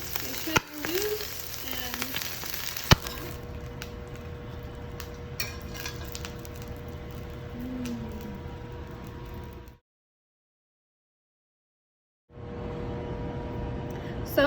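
Gyoza bottoms sizzling in a hot pan as the heat is raised to re-crisp them, a steady soft frying hiss with occasional utensil clicks, a short silent gap, then the sizzle returns.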